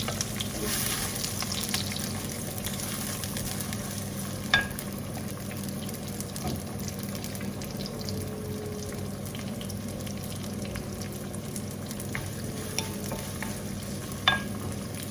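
Mushrooms fry in a pan with a steady, dense sizzle that carries on for many seconds. Occasional sharp pops and clicks stand out from it. There is no speech.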